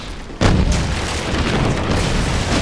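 A pirate ship's cannon fires in Disney Infinity's Pirates of the Caribbean world, with one sudden heavy boom followed by a sustained loud, rumbling roar of battle noise.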